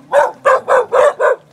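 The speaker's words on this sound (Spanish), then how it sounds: "Hay perritos también." Five loud, evenly spaced barks from a nearby dog, each short and full, repeating in a steady rhythm with no talking over them.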